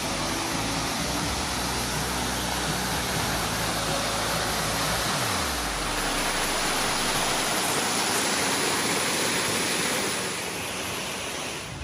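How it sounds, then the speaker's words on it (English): Dogwood Canyon Nature Park's waterfall pours in a steady, loud, broadband roar that never lets up, heard close with no voices. "There was this bridge where you can go behind the waterfall"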